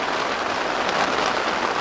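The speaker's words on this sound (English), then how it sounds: "So anyway, I'm getting a lot of rain." Heavy rain falls on a high-elevation garden, a dense, steady hiss of drops on leaves and ground, close and continuous with no voices.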